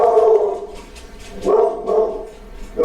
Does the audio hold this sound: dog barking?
yes